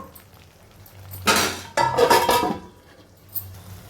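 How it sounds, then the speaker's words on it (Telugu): A lid is set onto a pan of methi curry, giving a couple of brief metallic clatters in quick succession amid quiet kitchen background. "కాసేపు మూత పెట్టి అలా ఉంచుతాను"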